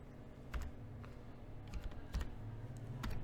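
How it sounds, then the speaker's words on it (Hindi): Keys clatter on a computer keyboard as a name is typed into an MS Excel spreadsheet, with a few sharper keystrokes standing out over a low, steady background hum. "इसी तरह से अब मैं यहाँ पे कोई नेम टाइप करती हूँ"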